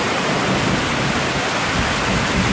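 Heavy rain mixed with hail pours down on a yard in Almyros, a dense, steady hiss and roar that stays constant and close throughout, with no voices.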